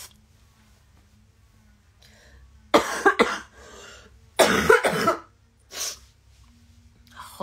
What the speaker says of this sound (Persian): سرفه اومد سراغم.